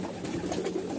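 A flock of pigeons gives a continuous, close chorus of low cooing as grain is given out, steady and alone without voices.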